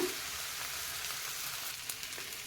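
Green gram set dosa cooks on a pan over a slow flame, giving a soft continuous sizzle and faint crackle, quiet and steady with no talking.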